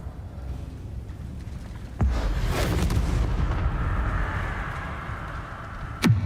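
Confringo and Bombarda blast spells cast in Hogwarts Legacy on PS4: a sudden loud boom with a sustained rumbling roar, followed near the end by a second sharp burst.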